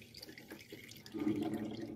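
Water dripping from a strainer after draining, heard as faint, sparse drips and a soft trickle in a quiet room.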